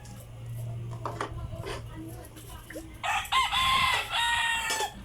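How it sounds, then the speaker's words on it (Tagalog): Roosters crow nearby, one long loud call in the second half after some scattered clucks and background noise. "yung manok natin maingay."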